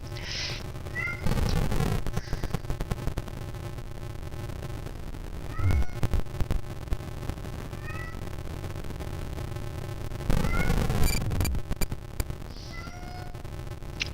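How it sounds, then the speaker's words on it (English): A house cat meows several times in the background, faint to moderate and a few seconds apart, over a low steady indoor hum from a Commodore 64 setup. "Sorry if you hear the cat in the background, he's kind of annoying."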